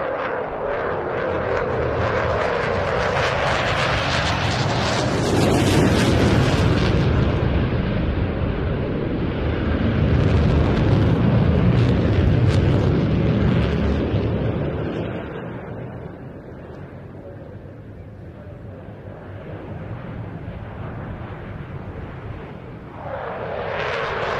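A 9G jet aircraft flies a tight 360-degree minimum-radius turn at an air festival, giving a loud, sustained roar that swells, eases, then builds again, carried on wind noise over about twenty seconds.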